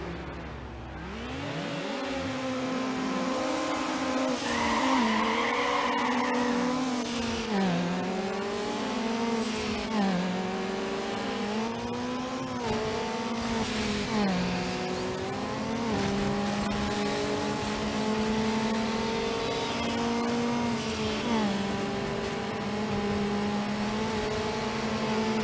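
A Nissan Sentra in the Need for Speed Underground racing game revs hard and shifts through the gears, its engine note rising and falling repeatedly while tires squeal. The sound is loud, continuous and close, with no talking.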